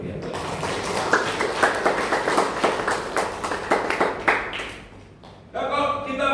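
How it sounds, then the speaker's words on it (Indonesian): During a Christmas service at GPPS Anugrah Kebraon church in Surabaya, the congregation claps in a quick, regular beat for several seconds, then the clapping stops and a voice carries on. "Beri tepuk tangan bagi Tuhan."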